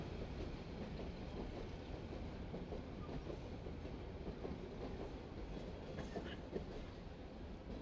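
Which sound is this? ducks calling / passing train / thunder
passing train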